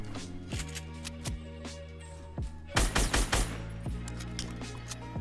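Rapid bursts of video game gunfire crack across a one-versus-one match, single shots and short volleys spaced irregularly, with a dense loud cluster midway, all loud and close with no talking.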